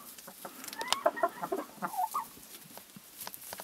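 Hens in a chicken coop in autumn, clucking close by in short, irregular bursts with soft murmuring between the calls.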